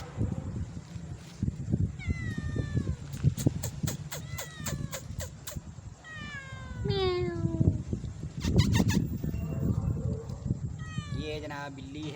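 A newborn kitten meows repeatedly in high, thin, rising calls, close to the microphone, with bursts of several meows over a background of low rumbling noise and handling.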